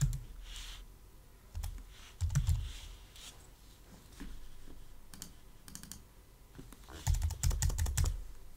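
Bursts of typing on a computer keyboard with scattered key clicks, clustered in short runs and a denser flurry near the end, close and moderately loud under faint room noise.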